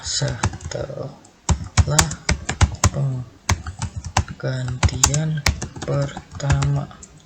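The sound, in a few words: typing on a computer keyboard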